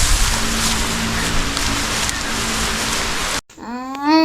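Heavy rain pours down in a dense, loud, steady hiss for several seconds, then cuts off abruptly and a voice is heard speaking.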